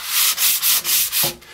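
A wooden walking stick is hand-sanded with 220-grit sandpaper, giving five brisk, even rasping strokes in quick rhythm, close and fairly loud, with no talk.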